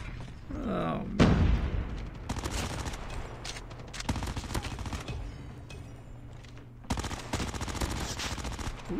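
MX9 submachine gun firing in a first-person shooter, rapid bursts of close automatic fire in several strings, with a player talking over parts of it.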